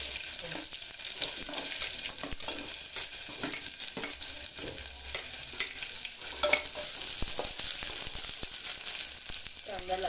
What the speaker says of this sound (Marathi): कांदा घालून घ्यायचा.